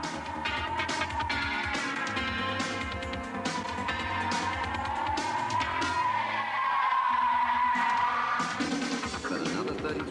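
A Nissan sports car racing on a track in 1986, chasing a Plymouth; a continuous engine drone whose pitch rises and falls as the car works through corners, steady and fairly loud throughout.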